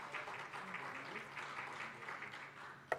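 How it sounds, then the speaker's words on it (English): Quiet, moderate applause from an audience at a broadcast and digital media convention, steady scattered clapping heard from a distance, ending with a sharp louder knock. "Can you please give him a round of applause"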